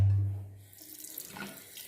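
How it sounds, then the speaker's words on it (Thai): Tap water runs steadily over a pair of eyeglasses as they are rinsed clean under the faucet, a close, continuous splashing flow with no talk. "ค่อยๆเปิดน้ำไหลผ่านเลย ล้างให้ทั่วครับ"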